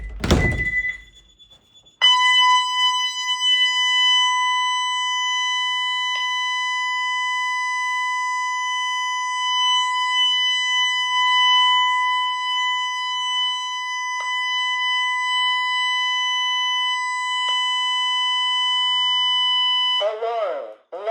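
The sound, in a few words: home security system alarm siren, left bedroom door opened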